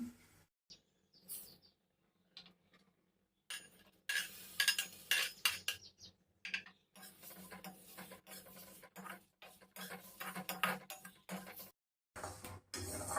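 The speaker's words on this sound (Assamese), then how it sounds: "মছলাখিনি ভাজোঁতে এইদৰে এনেকৈ লৰাই থাকিব, জ্বলি যাবলৈ নিদিব।" Repeated scraping and clinking of a utensil stirring spices frying in a kadai for olive pickle, with a steady low sizzle underneath and brief pauses between bursts.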